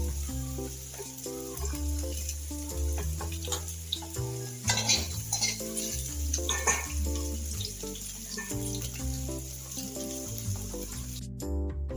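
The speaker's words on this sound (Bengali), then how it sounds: "এখন আমি একটু উল্টিয়ে দিব।" Crispy snacks fry in a pan with a continuous sizzle under clinking utensils and pan knocks as pieces are flipped, plus a brief burst of running water near the middle, close and fairly busy, with no talking.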